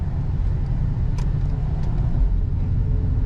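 A 2021 Dodge Challenger R/T Scat Pack with the 392 engine cruises on the road in track mode, giving a steady, loud low rumble of engine and road noise throughout, with no talking.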